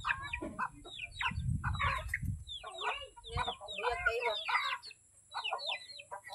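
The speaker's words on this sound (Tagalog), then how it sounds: "Saka yung manok ko." Chickens cluck in a series of close, choppy bursts, several overlapping calls with short pauses between, fairly faint against low background noise.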